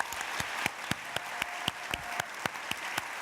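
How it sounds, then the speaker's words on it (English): An audience applauds at a UNICEF event with New Zealand Prime Minister Ardern, a modest round of scattered, distinct claps heard fairly close and quiet, with no talking over it. "Can we just give her a round of applause for that?"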